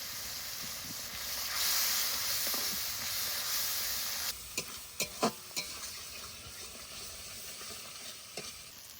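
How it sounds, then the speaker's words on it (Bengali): Ground spices fry in oil in a pan for a gulsha and tengra fish curry, giving a steady soft sizzle, then a run of sharp stirring scrapes and taps partway through. "মশলা একটু কষিয়ে নিয়েছি, সুন্দর তেল ছেড়ে দিয়েছে।"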